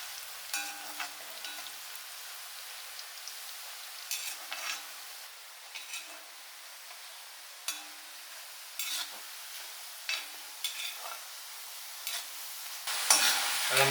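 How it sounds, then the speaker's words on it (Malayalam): Banana chips frying in hot oil for an Onam snack while being stirred, with faint bubbling under repeated scraping and clinking strokes of the stirring utensil, ending in a louder burst. "ഇട്ട സമയത്ത് നന്നാക്കി ഇളക്കി കൊടുക്കണം, ഇല്ലെങ്കിൽ വെച്ചാൽ അത് ഒട്ടിപ്പിടിക്കും"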